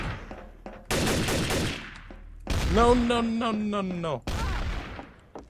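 Gunfire in a Garry's Mod Trouble in Terrorist Town match rattles out as a dense burst of rapid shots, followed by a voice talking and another shorter loud burst.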